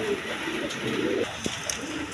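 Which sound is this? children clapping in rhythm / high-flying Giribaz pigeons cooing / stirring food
high-flying Giribaz pigeons cooing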